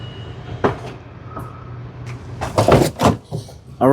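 A rear platform bed is lifted in a 2025 Revel Sport camper van on a Mercedes-Benz Sprinter 2500 AWD chassis. Scattered close clunks, knocks and rattling thumps come in uneven bursts, ending with a louder bang.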